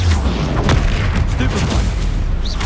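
A Repulsor spell cast in the video game Hogwarts Legacy sounds amid busy combat, with thumping booms and sharp impacts layered over a loud, continuous low rumble; a voice is heard in the mix.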